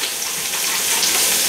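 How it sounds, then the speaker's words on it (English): Beer poured into a hot Instant Pot, hissing and sizzling loudly as it hits the cooking surface, a dense crackling fizz that rises slightly over the short span. "So I'm taking one of Mark's beers and throwing it in there"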